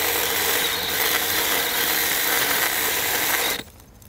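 A Milwaukee M12 FUEL Hatchet cordless pruning saw cuts through a roughly three-inch round of wood with a dense, buzzing mechanical rasp, close and loud, before stalling and cutting out abruptly near the end.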